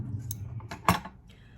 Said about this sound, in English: I have hair scissors.